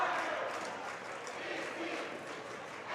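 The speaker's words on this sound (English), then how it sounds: "Pretty good crowd." Crowd noise at a high school girls' basketball tournament game in a gym: a steady, diffuse roar of many voices and cheering, continuous and moderately loud, with no single voice standing out.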